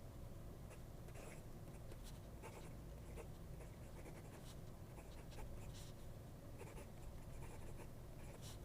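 A Diplomat Aero fountain pen with a medium nib scratches across paper in a steady, very faint series of short strokes, close up and quiet with no voices.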